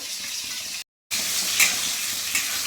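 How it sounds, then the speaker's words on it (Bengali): Pointed gourd frying in hot oil in a pan gives a steady, close sizzle with brief stirring scrapes, broken by a short moment of silence. "পটলগুলো ভাজছি"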